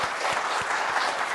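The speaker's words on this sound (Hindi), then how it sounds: "एक बहुत ज़ोरदार तालियां हमारे उन तमाम शहीदों के लिए दें" Loud audience applause at a university session honoring the nation's martyrs, a thick continuous wash of clapping from a large crowd.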